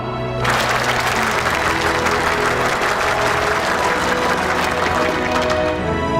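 A group of soldiers applauding together, a dense, steady burst of clapping that starts abruptly and holds loud and close for several seconds.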